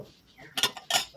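Dishes and cutlery clinking while lunch is served, two sharp bright clatters of metal utensils against plates close by, with quieter shuffling between them.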